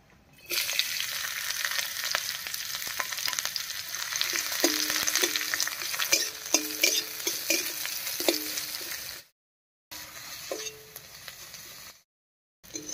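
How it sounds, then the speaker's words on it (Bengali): Chopped garlic, onion and green chilli fry in hot oil with a steady, close crackling sizzle, punctuated by repeated metallic clinks of a spatula stirring the pan; the sizzle briefly cuts out twice. "এবারে দেবো এর মধ্যে রসুন কুচি, পেঁয়াজ কুচি আর লঙ্কা কুচি"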